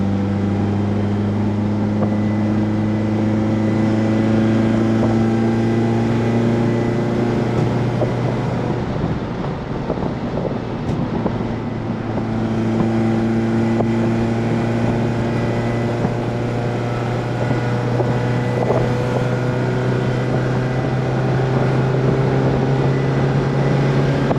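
Rare Mercedes car driving in fourth gear, a steady loud engine drone with a slow pitch shift as it holds speed, continuous and close for the full length, no talking.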